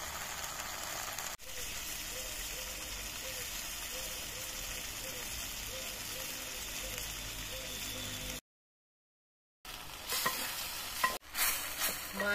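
Chilli paste hisses steadily in a clay wok over a wood fire, added to ginger and garlic already fried. A constant close sizzle runs for several seconds, cuts out briefly, then returns with a few clattering stirs.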